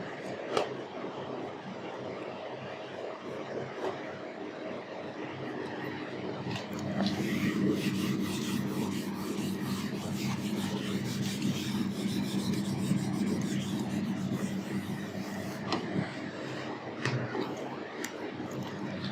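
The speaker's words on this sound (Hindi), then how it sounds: "चलो इसको मैं रब करता हूं, रब कर दे।" Writing being rubbed off a classroom board, heard as continuous scratchy rubbing strokes that grow louder and denser midway, close and alone without speech.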